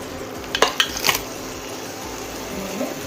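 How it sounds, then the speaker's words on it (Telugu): Crabs, washed with turmeric and salt, go into a pan of masala fried until the oil separates, with a few sharp metallic clinks and scrapes of utensils over a soft, steady sizzle. "ఈ టైంలో మనం క్రాబ్స్ వేసుకుందాం."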